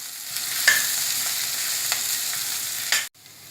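Mashed potatoes are mixed in a pan for dosa, a soft steady sizzle broken by a few light spatula taps and a brief cutoff near the end.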